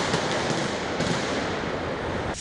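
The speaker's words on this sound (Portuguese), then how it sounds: "manifestantes com rojões, bombas caseiras e pedras atacavam os policiais militares" Fireworks rockets and homemade bombs go off during a street protest, with dense crackling bursts and sharp pops in a continuous loud barrage.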